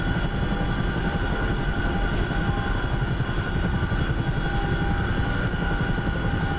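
A light aircraft engine drones loudly and steadily in flight, a constant propeller roar with no talk over it.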